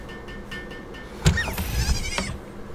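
Sheep in the game Palworld bleat in short wavering calls, a few faint ones early and then a louder burst of overlapping bleats near the end over quiet game sounds.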